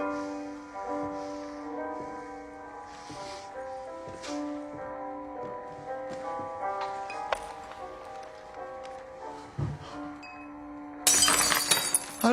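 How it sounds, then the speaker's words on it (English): A glass dropped onto a bar-room floor breaks in a sudden, bright shattering burst near the end, after a long stretch of sustained tonal music with faint ticks and clinks beneath it. "If I drop a glass on the floor, you pick it up."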